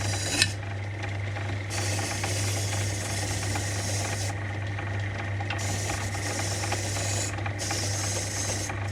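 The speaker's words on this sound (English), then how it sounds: "So I'm going to use a pillar drill just to clean it up as much as I can." A pillar drill cleaning up a part from a Power Devil PDG4350P lawn mower, a steady mechanical whir with a low hum and continuous abrasive rubbing, running unbroken and fairly loud.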